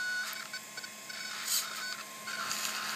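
Steering servo on a mini 8ight RC car whirring in short faint mechanical bursts, close up and without talk.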